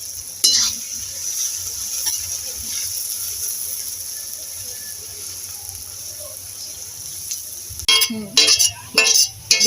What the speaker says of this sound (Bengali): তেলটা গরম হয়ে গেলে আমি বেরেস্তাটা ভেজে নেব।